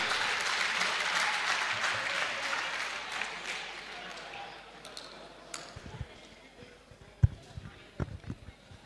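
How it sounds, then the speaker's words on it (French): Audience applause at a business club event as a guest speaker is introduced, dense clapping from a crowd that gradually dies down into scattered claps, footsteps and murmuring voices. "Je vais vous demander d'applaudir Monsieur Ibrahim Hassen Senovic"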